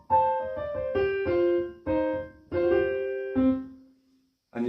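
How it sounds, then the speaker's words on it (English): Solo piano plays the second variation of a blues right-hand riff, a run of repeated descending notes in a steady rhythm that ends on a held low note before a fresh chord strikes, close and clear. "So the second variation sounds like this."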